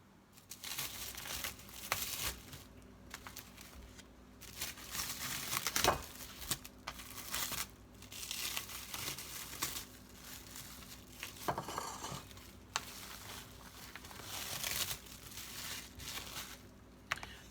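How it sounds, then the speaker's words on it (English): Plastic packaging around store-bought stuffing crinkles and crackles close by in a kitchen, in several uneven bursts with short pauses and an occasional sharper tear, fairly quiet throughout. "So I've unwrapped the stuffing"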